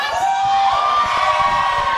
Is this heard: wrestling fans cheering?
yes